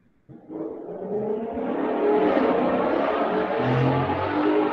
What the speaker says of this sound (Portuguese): Carro do Lewis Hamilton passando aí na rua agora.